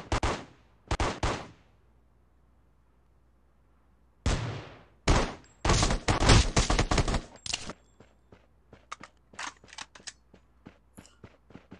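Gunfire and grenade blasts in the battle royale video game Rules of Survival, with pistol, shotgun and assault-rifle shots: loud separate bursts early, then a dense volley and a quick run of sharp single shots trailing off, with no talk.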